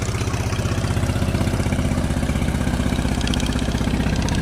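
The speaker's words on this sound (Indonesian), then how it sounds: "ini suara kapal tok-tok" A tok-tok fishing boat engine at the Cilincing fishermen's dock putters close by in a steady, rapid, low chugging rhythm, loud and continuous with no voices over it.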